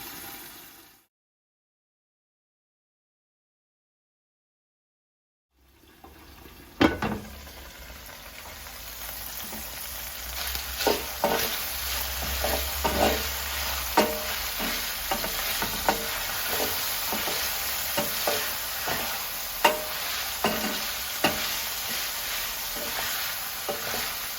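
Steady sizzling of meat browning in a pan, with occasional stirring scrapes and clicks, close and continuous after a brief silence at the start.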